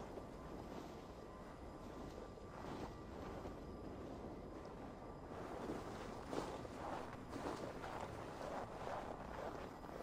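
Steady gusting wind in a stormy video game scene, a broad continuous rush that swells louder around the middle and stays constant throughout with no talk over it.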